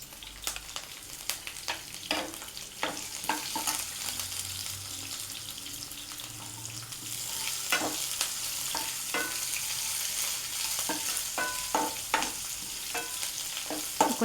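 Dry red chillies, green chillies, onion and curry leaf sprigs fry in hot oil for a curd rasam tempering, a steady close sizzle with scattered crackles and pops, stirred occasionally, no voices.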